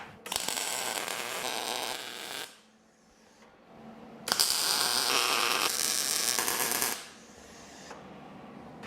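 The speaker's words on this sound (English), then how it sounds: "tack these two pieces together and then weld them somewhere that isn't on the table" Tack welding two steel table saw fence pieces together, with two long bursts of loud crackling, sizzling arc separated by a short quiet pause and a low background hum.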